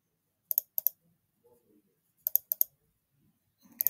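Computer mouse double-clicks while adjusting spreadsheet column widths: two crisp paired clicks near the start, two more pairs later, and another pair at the very end, close and sharp against a quiet background.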